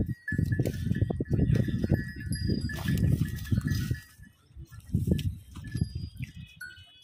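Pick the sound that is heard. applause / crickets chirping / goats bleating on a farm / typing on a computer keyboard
goats bleating on a farm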